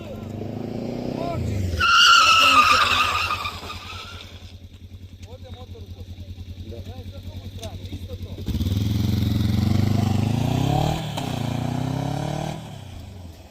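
Motorcycle braking hard and skidding on a track during a rider safety training session, a loud engine roar rising and a harsh skid near the start, then a steady engine drone and a second loud surge, with an instructor talking over it.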